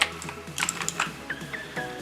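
Keys on an inexpensive mechanical keyboard are pressed in a quick irregular run of crisp, close clicks and clacks, with no voices.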